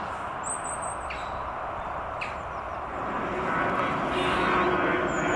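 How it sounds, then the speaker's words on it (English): Airplanes climbing out along the takeoff flight path over Osterley Park make a broad, steady rumbling roar that swells louder toward the end, with birds chirping faintly in the parkland around it. "As you can hear, Osterley is also on one of the flight paths. It's the takeoff path."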